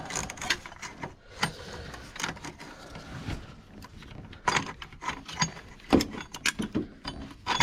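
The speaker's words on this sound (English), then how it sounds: "13mm deep socket and a ratchet." Ratchet clicking as a 13mm deep socket works a bolt on a 2001 Dodge Caravan during EGR and alternator work, giving scattered short mechanical ticks and clatter at close range, some louder near the end.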